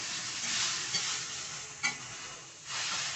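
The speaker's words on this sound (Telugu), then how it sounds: "ఈ విధంగా నెమ్మదిగా మిక్స్ చేసుకోండి. ఒక 2 మినిట్స్ అలాగే ఫ్రై అవనియండి." Poha (flattened rice) being slowly stirred in a frying pan makes a soft, steady hissing sizzle with a couple of brief scrape knocks, close and even.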